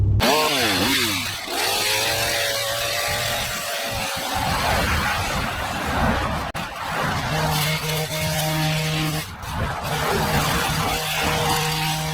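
Chainsaw cutting down a small bush at a yard, with the engine droning and revving steadily throughout over outdoor background noise.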